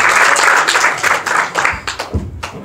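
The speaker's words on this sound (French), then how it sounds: "je vous prie de l'applaudir" An audience at a conference claps for the next speaker as he is introduced, a loud burst of applause that thins out into scattered claps and fades near the end.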